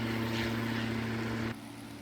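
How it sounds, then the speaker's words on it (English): A Focke-Wulf FW-190 propeller plane engine in the DCS flight sim roars as a loud, steady droning hum, then drops abruptly to a quieter level about two-thirds of the way through. "That FW-190 is just loud."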